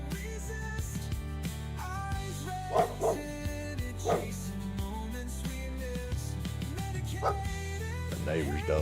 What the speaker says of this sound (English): The neighbor's dog's out there barking.